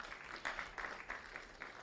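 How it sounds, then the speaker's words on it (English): Audience applause at a youth, peace and security conference in Nigeria: steady, fairly faint clapping from a crowd, continuous and even, with no voices over it. "Please, let's keep clapping then."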